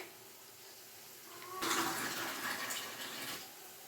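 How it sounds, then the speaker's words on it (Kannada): After a quiet moment, about half a glass of water is poured into a pan of chicken liver pepper gravy in a steady splashing stream for about two seconds, then stops. "ನಾನು ಒಂದು ಅರ್ಧ ಗ್ಲಾಸ್ ಆಗೋಷ್ಟು ನೀರು ಹಾಕ್ತಾ ಇದ್ದೀನಿ"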